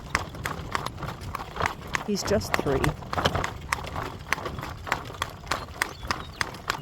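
A three-year-old horse trots on a morning ride, its hooves clip-clopping in a steady, fairly close rhythm with a brief snort, while someone talks over the hoofbeats.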